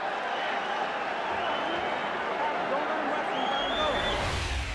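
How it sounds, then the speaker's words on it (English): A boxing crowd in England roars and cheers at the bell ending a round of Mike Tyson vs Frank Bruno, a broad, continuous wash of noise with a commentator talking over it. "The bell ends round number 4, and the crowd in England loves it."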